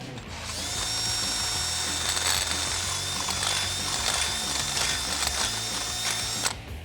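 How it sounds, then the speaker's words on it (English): A power drill with a 1/2-inch bit bores into the top of a truck spindle on a 2014-2018 Silverado 1500 during lift kit installation, holding a steady high whine with a grinding, chattering undertone for about six seconds before stopping abruptly. "we're going to drill out the top of this spindle"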